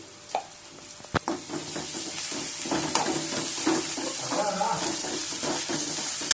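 Ginger garlic paste sizzling as prawns fry for a prawn curry. A loud, dense hiss swells midway, broken by stirring clatter and a few sharp utensil knocks.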